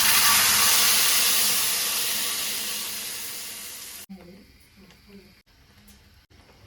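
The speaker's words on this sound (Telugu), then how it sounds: "అదే ప్యాన్లో ఆయిల్ వేసుకుని అందులోనే ఇది కూడా మరిగించేస్తున్నాను" Tamarind pulp boils and sizzles in oil in a pan, a loud, dense hiss that slowly fades over four seconds before cutting off to quieter room noise and faint clinks.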